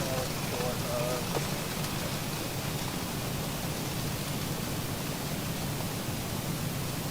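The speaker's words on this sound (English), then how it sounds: "Sounds like the rain is easing up now" Steady rain hiss in the X-Plane 12 flight simulator, a continuous even wash of noise on an airliner cockpit at Los Angeles airport, moderately loud, with faint radio-like tones early on.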